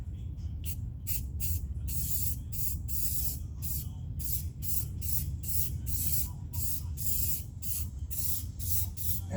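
A spray can puts matte clear coat onto interior paintwork in a long run of short, sharp hissing bursts, close and steady, with brief gaps between sprays over a low background hum.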